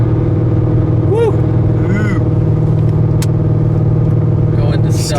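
A Corvette Z06 with a trunnion upgrade pulls at part throttle, a steady low engine drone holding throughout, with people talking over it and a brief sharp burst near the end.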